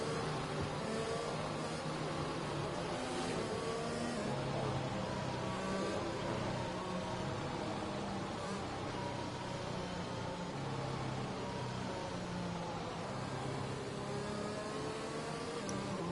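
Racing video game cars roaring steadily through a Netherlands round, a dense continuous engine drone with shifting pitch from several vehicles, fairly loud and without pause.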